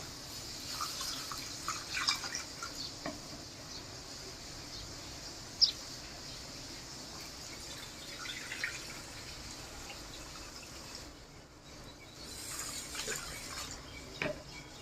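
Rice for payesh rinsed by hand in water in a home kitchen, a soft continuous swishing and trickling with faint drips, fairly quiet and steady with a slight lull near the end, no talk.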